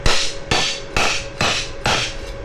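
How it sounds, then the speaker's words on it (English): A hammer strikes a welded metal part from a 40-year-old Honda motorcycle five times at an even, steady rhythm, each blow a loud, close, ringing metallic clang. "if I try and hammer it in this way"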